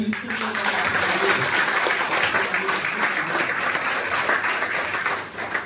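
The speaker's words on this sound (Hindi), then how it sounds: "तो मैं चाहूंगा एक बार सिस्टम के लिए जोरदार ताली।" An audience at a motivational business talk gives loud, sustained applause, a dense wash of clapping that holds steady for several seconds before it tapers near the end.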